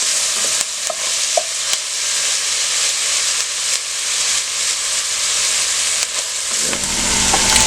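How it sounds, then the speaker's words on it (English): Chopped medium white onion, cumin seeds, cracked pepper and iodised salt sizzle in a pan for a chickpea stew, a loud, steady frying hiss broken by light clicks of stirring, with no speech. "And I'm going to cook the onions for about 2 minutes."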